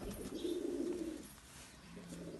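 Domestic pigeons kept by a fancier coo softly in a low, rolling murmur, faint and close, with no talking.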